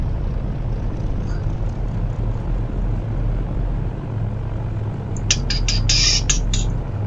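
Aircraft engine drones steadily as the plane taxis quickly along the ground in Flight Simulator X played in VR, a continuous mechanical hum with a brief higher chirping burst near the end.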